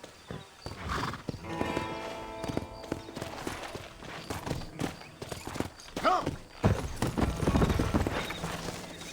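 Horse hooves clip-clop in Red Dead Redemption, joined by a loud neigh and whinny, with dense in-game activity and some talk overlapping.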